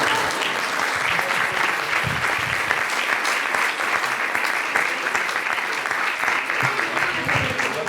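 An audience at a book launch for a work on kindergarten teachers applauds warmly, dense continuous clapping throughout, loud and close with no pauses.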